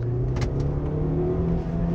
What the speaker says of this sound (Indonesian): Nah, itu baru ada suara mesin yang kedengeran.